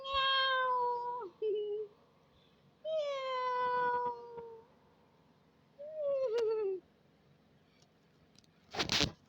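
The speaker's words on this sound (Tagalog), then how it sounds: "Meow!" A cat meows loudly and close by in four drawn-out, wavering calls separated by short pauses, the last one ending in a brief scuffle or rustle.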